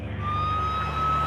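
A police car siren wails loudly and steadily, a sustained high tone with no voices over it.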